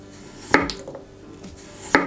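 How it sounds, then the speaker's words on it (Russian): A knife slicing potatoes on a cutting board for an English lamb stew: two sharp, close knocks about a second and a half apart, with soft rustling between them. "Режу картофель вот на такие вот"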